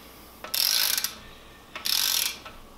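A torque wrench ratchets in two quick bursts while rod bolts are snugged down during an N54 engine rebuild, each a close, bright clicking run lasting about half a second, separated by a short pause.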